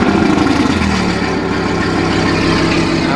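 A Lamborghini fitted with an F1-style exhaust runs loud and close, a dense rumbling idle that shifts slightly in pitch with steady throbbing pulses and no pause.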